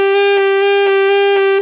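A saxophone plays a single steady E using a false fingering with low C held down, giving a slightly choked, covered tone. The note holds for under two seconds with faint key or breath pulses beneath it before it stops cleanly.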